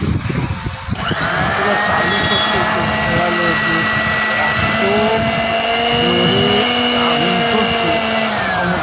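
A repaired electric motor, fitted with new carbon brushes after a worn holder was fixed, starts up and runs with a loud, steady whine and hum that holds at a constant pitch.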